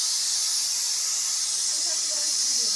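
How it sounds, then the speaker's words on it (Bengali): A pressure cooker whistle releasing steam, heard as a loud, continuous high-pitched hiss that holds steady throughout, close and alone. "প্রেশার কুকারে একটা সিটি মারি দিচ্ছে অলরেডি"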